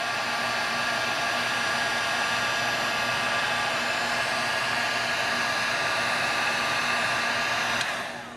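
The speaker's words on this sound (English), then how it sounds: "We'll just use the heat gun on it to" A heat gun blows steadily and loudly for about eight seconds while shrinking heat-shrink tubing over a wiring connection on an e-bike, its airflow a constant broadband roar that cuts off near the end.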